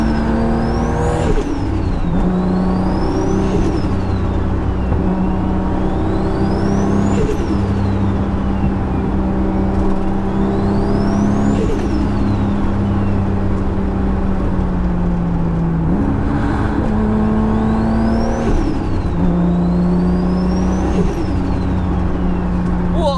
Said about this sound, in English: Let's just listen to the 2J make the best noises with a T51.